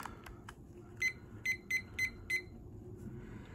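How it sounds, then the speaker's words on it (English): A handheld timer being set for an art challenge gives a few quick clicks, then a run of short, sharp electronic beeps spaced about a quarter second apart, close and clear over faint room noise. "So I'm going to get my timer and get it set."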